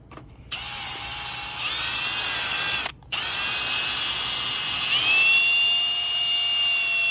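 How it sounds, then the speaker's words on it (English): A power buffer with a cotton bonnet whines loudly and steadily while polishing a Kawasaki jet ski, its pitch shifting as it spins up, cutting out briefly midway, then restarting and rising higher. "use this cotton bonnet to get a final shiny glaze on this"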